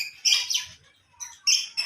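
African lovebirds give sharp, high chirps and tweets in short bursts with brief pauses between them, close and fairly loud.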